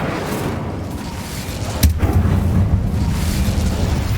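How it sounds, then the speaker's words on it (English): An Incendio fire spell blast from Hogwarts Legacy sounds as one sudden booming burst partway through, followed by a steady roaring whoosh of flame that holds loud to the end. "Incendio."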